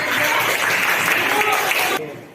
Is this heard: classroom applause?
yes